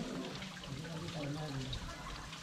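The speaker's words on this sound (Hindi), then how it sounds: "आप देख सकते हैं पानी का आवाज़ भी सुन सकते हैं।" Dhaskund waterfall near Sirpur, Mahasamund, in a low-water season: a small flow of water falls and trickles in a constant, faint, gentle wash with no talk.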